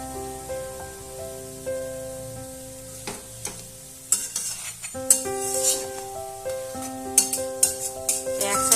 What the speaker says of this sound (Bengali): এই পর্যায়ে করে সব ভেজে নিতে হবে